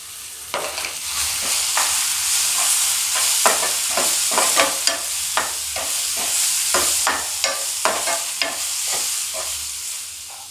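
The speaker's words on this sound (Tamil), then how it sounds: "நல்லா மசாலா பச்சை வாசம் போக நல்லா வணக்கிட்டு" Ginger-garlic paste with cumin powder, pepper, garam masala and chilli powder sautéing for mushroom gravy, a low steady sizzle punctuated by repeated sharp scraping strokes of a spoon against the pan.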